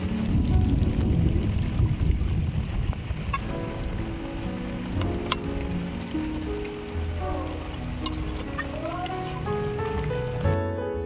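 Water pours into a pan of cooked-down chicken, a loud gushing splash that fades into bubbling and simmering hiss, with faint pan clatter near the end.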